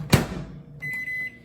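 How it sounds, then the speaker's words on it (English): Microwave oven warming stuffed bell peppers to heat the sauce and melt the cheese: a brief thump, then a steady close hum with a thin high tone, broken once by a short pause. "I'm going to pop this in the microwave just long enough to heat up that sauce and melt that cheese"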